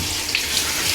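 Shower water sprays steadily as muddy dogs are washed clean, a continuous close hiss of running water with no pauses.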